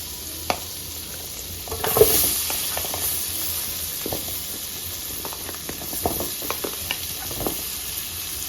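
Butter sizzling and frying in a pan for butter chicken, a steady hiss broken by scattered scraping clinks of stirring, close and moderately loud, with no talk.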